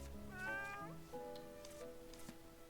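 A cat in the video game Little Witch in the Woods meows several times, soft high rising and falling calls that are fairly faint over a quiet background, with no talk.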